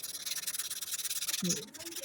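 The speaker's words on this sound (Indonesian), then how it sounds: "terpaksa saya amplas lagi" Rhythmic rubbing strokes of sandpaper scrape steadily back and forth on a boomerang-shaped smoking pipe, with a brief voice murmuring partway through.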